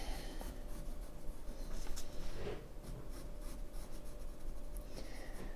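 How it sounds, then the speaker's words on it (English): Pencil shading scratches softly around the edges of a Zentangle paper tile, a faint, steady rubbing and scribbling close up, with no talking. "just bring some pencil shade all around the edges of it to make it pop"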